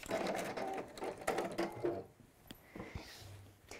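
The walking foot on an NX7 sewing machine is pulled down, giving a run of close, loud mechanical clicks and ratcheting clunks that then fade into softer, scattered ticks and a faint low hum.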